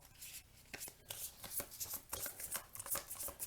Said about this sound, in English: I usually shuffle a little faster than this